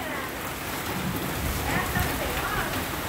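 A heavy rain downpour drums on the sheet-metal roof of a house, a dense and continuous roar that stays loud and steady throughout.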